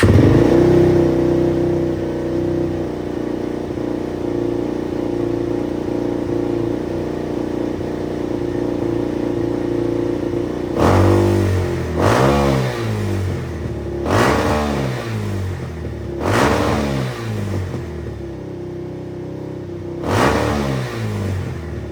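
A Suzuki LTZ400 ATV engine with a slightly sticky throttle, idling steadily and then revving loudly in four or five sharp bursts close by, with no talking.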